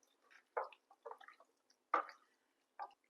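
Chicken being stirred into a marinade of fresh yogurt, giving soft, wet squishing and sloshing strokes in a few short, separate bursts with quiet pauses between, close and fairly faint.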